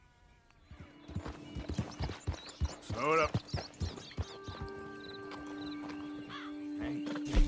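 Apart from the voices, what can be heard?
horse hooves and whinnying, Red Dead Redemption 2 video game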